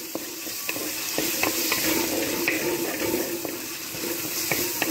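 Crushed peanuts stirred with masala in a hot pan for a peanut, brinjal and nethili dry fish gravy, giving a steady close sizzle with scraping stir strokes throughout.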